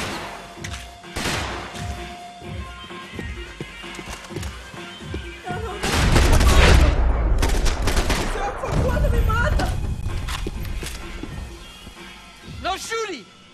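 Gunfire in the Max Payne 3 video game, scattered shots early, then a loud dense fusillade of overlapping blasts and rumble, mixed with shouting voices and game ambience.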